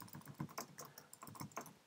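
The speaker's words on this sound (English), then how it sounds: "I'm just going to type in WordPress plus download" Keys clatter quickly and lightly on a computer keyboard in a quiet, close burst of typing.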